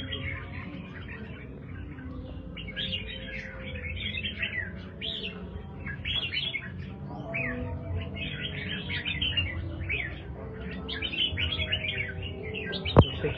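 Red-whiskered bulbul (chào mào) of the Do Thái type singing continuously, a string of bright chirping phrases close to the microphone over a steady low background hum, with a sharp click near the end.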